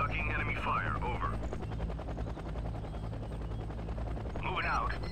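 Enemy gunfire in the Act of War video game, dense continuous rattling volleys under a steady low rumble, with brief warbling radio-like voice chatter at the start and end.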